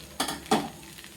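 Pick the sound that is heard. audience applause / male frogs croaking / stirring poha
stirring poha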